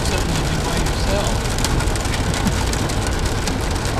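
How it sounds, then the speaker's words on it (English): Heavy rain pours outdoors on a hike at Willis Creek, a dense, constant hiss of rainfall close by with steady spattering that does not let up. "I'll just say in my log it was raining like crazy"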